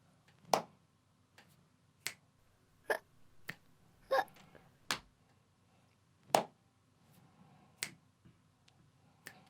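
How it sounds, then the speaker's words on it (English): A rhythmic body-percussion pattern of finger clicks, knee slaps and hand claps performed along to a children's story song. About a dozen sharp, separate hits are spaced irregularly and sound close and fairly quiet against a soft background. "Slap your knees, clap your hands, click, click, slap, clap, click,"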